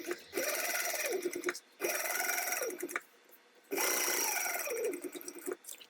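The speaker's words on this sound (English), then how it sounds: "I'm going to top stitch through the top with 1/8 of an inch seam allowance" Sewing machine top stitching through fabric with a 1/8 inch seam allowance: three close, loud bursts of rapid needle whirring, each lasting about a second and a half and separated by short pauses.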